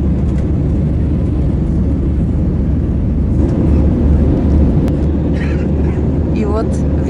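A continuous airplane engine drone fills the cabin during flight as the plane turns toward Istanbul, a steady low roar with faint voices now and then underneath.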